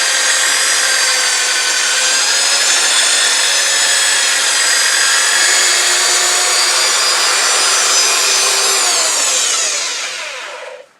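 A wood lathe spins a bowl with an ingrained branch, a steady broadband whir with tonal harmonics held loud and even, then winding down as the lathe slows at the end; no talking.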